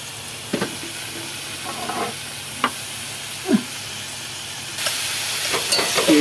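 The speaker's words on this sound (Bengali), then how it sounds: "অল্প তেল দিয়ে দিই, দিয়ে শাকটাকে এবারে ধীরে ধীরে ভেজে নিই" Boiled saag greens stir-fry slowly in a little oil, giving a soft steady hiss with a few sparse scrapes and clinks, and the sizzle brightens and grows louder toward the end.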